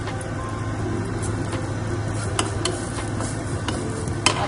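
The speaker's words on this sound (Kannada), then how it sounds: "ಮೊದಲು ಬಾಣಲಿಗೆ ಸ್ವಲ್ಪ ಎಣ್ಣೆ ಹಾಕಿ ಹಸಿಮೆಣಸು ಕರ್ಬೇವಿನ ಸೊಪ್ಪನ್ನ ಹುರಿಬೇಕು" Green chillies and curry leaves fry in oil in a pan for a radish chutney, giving a steady close sizzle with faint stirring scrapes and occasional sharp pops and crackles throughout.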